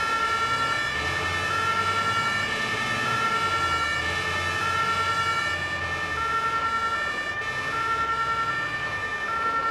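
Martinshorn siren of an emergency vehicle in the video game NOTRUF 112, sounding with steady two-tone wailing for the whole stretch over a low vehicle rumble, loud and close.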